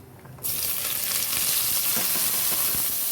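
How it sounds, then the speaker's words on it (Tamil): Onions hit a hot pan with a sudden loud sizzle, then keep frying in a steady, crackling hiss close by. "இது நல்லா வதக்கி எடுத்துக்கலாம்"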